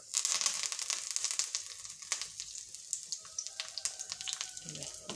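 Onions and curry leaves fry in hot oil for a tomato curry, giving a dense, steady crackling sizzle with sharp spits and pops throughout, close and moderately loud.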